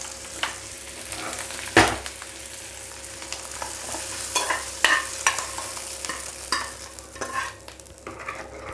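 Hot tempering (tadka) poured into a pot of sambar gives a soft sizzle with a few sharp clinks and stirring scrapes of a spoon against the vessel, with no talk.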